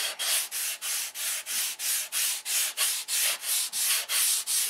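Balsa wood being hand-sanded with 150-grit sandpaper: about fourteen steady, evenly spaced back-and-forth rasping strokes, close and loud, with no talking.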